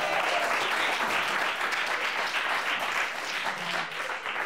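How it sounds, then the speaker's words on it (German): A choir and onlookers applaud choir member Ben during a CD recording session, a dense, even wash of clapping sustained from start to finish, close and fairly loud with no voices on top. "Ein Applaus für Ben."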